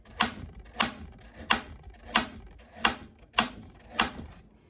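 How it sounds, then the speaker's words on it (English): A knife slices a carrot into thin slices on a board, seven crisp, evenly spaced chops at a steady rhythm, close and clear with no talking. "So let's slice the carrot. Slice it into thin slices"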